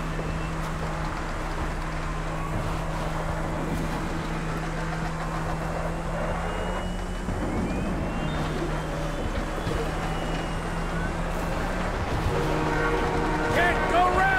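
A train passes in GTA 5 gameplay on PS4 beneath a struggling aircraft: a steady low rumble with a sustained droning tone and scattered rattles that swell a little toward the end.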